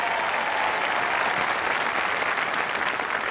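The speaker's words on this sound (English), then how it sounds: "Round of applause." A studio audience at a televised charity royal knockout tournament gives a steady, dense round of applause that holds evenly throughout, close and full with no voices over it.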